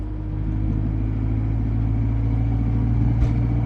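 An Abarth car rolls onto the highway, heard from inside as a steady low engine drone and road rumble that holds even and loud throughout.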